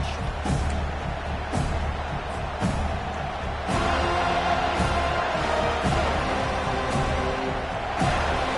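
A college football stadium crowd roars continuously after a touchdown and kickoff, a dense wall of cheering with repeated sharp thumps and claps cutting through.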